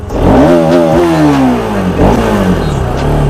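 A loud Bajaj Dominar 400 motorcycle engine revs up and down close by, its pitch rising and falling in repeated throttle bursts.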